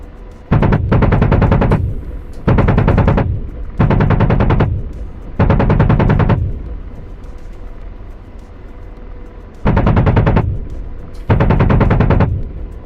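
Helicopter gun fire in a video game, six loud, heavy bursts of rapid machine-gun rounds, each lasting about a second, separated by short gaps of low engine rumble.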